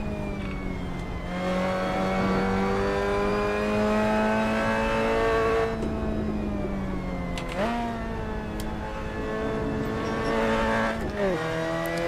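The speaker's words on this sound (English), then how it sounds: "I'm over revving the heck out of this car" Car engine in the Assetto Corsa racing game revving hard and held near the limiter on a winter snow track, a loud sustained whine that dips briefly at each gear change, with no talk.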